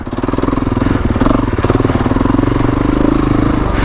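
A 2021 Kawasaki KX450X dirt bike lugs slowly along a narrow single-track trail. Its engine gives a loud, close, steady low thumping pulse with no voices.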